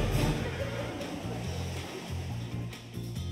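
Sea waves wash onto a sandy beach in a steady, broad rush of surf that fills the whole stretch, with a low, droning undertone beneath it.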